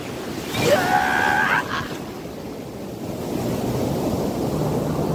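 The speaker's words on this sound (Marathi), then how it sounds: "हे बघा एवढ्या मोठ्या लाटा" Large waves surge and wash onto Diveagar beach in a steady roar of surf mixed with wind buffeting the microphone, and a brief high squeal rises early before fading back into the constant rumble.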